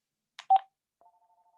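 Phone keypad tones sound near and clear as a phone is closed: a short burst of beeps, then a faint repeating tone pattern that trails off.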